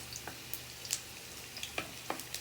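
Garlic frying in cooking oil in a pan for macaroni makes a faint, soft sizzle, with scattered light pops and clicks of stirring.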